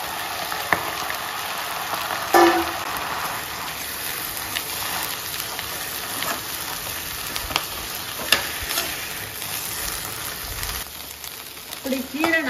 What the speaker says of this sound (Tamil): இப்படி கீரை நம்ம கிளறி கொடுக்கும்போது பார்த்தீங்கன்னா அப்படியே ஒன்றோட ஒன்று ஒட்டிக்கிட்டு தான் வரும்